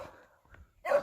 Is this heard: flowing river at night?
no